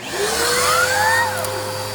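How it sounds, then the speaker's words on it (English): A Bissell CleanView upright vacuum cleaner runs continuously on carpet, a loud steady roaring motor with a whining tone that rises slightly in pitch and settles, close and alone without talk. "So I'm gonna vacuum this."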